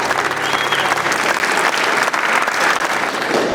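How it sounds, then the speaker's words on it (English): Convention audience at Andercon 2015 breaking into a round of applause, dense steady clapping from a large crowd filling the room for several seconds. "You gotta give him a round of applause"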